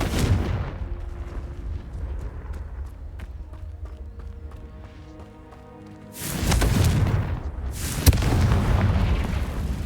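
Confringo blasting spell fired in Hogwarts Legacy on PS5, a loud burst of explosive, crackling blasts erupting after a quieter stretch of game ambience and lasting to the end.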